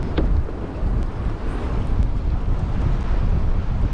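Strong wind buffets the microphone while kayaking in choppy water. A loud, constant low roar continues with no pause and drowns out everything else.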